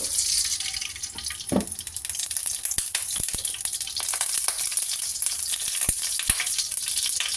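A little oil sizzling in a hot pan before ground chicken goes in, a continuous close crackling hiss dotted with sharp pops and spits.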